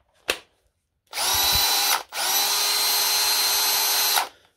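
A Milwaukee M18 cordless drill whirs in two steady high-pitched bursts of about a second and two seconds, separated by a short pause, with a click just before.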